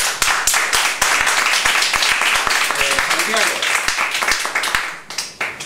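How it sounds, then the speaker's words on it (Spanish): Audience applause at a Spanish-language talk on video marketing: dense, steady clapping from a room of people, fairly loud and continuous for several seconds before thinning out at the end, with a voice briefly audible partway through. "Un aplauso para todos nosotros."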